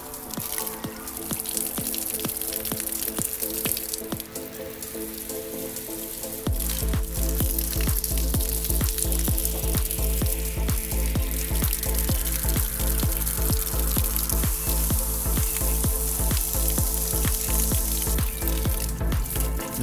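Heavy water spray drenches a Samsung Galaxy S10 Plus phone, a loud constant hissing rush of water that grows stronger partway through, with dense spattering and no voices.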